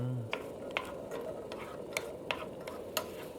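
Peanuts are stir-fried in a pan, a soft steady sizzle broken by several light, irregular clicks and taps of stirring, fairly quiet throughout, with a faint voice at the very start.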